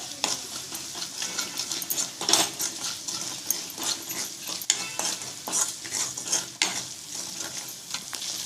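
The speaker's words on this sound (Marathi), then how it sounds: "एकदम भाज्या घालून घ्यायच्या आणि अशा हलवून घ्यायच्या मस्त." Vegetables with turmeric and salt fry in a pan while a spoon stirs them, giving a soft continuous sizzle broken by repeated scrapes and sharp clinks of utensil against metal, close and fairly quiet.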